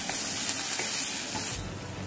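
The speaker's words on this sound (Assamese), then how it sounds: "এইখিনি ভাজি লওঁ" Onion, ginger and garlic frying in hot oil, a loud, continuous close sizzle with faint stirring, no talking.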